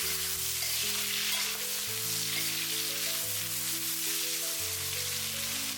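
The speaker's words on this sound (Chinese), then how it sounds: "接下来把处理好的苦瓜倒在锅中，快速翻炒均匀，把苦瓜炒干水分。" Bitter melon stir-fried in a wok with pork belly and its rendered fat, giving a loud, steady, close sizzle and crackle of frying throughout.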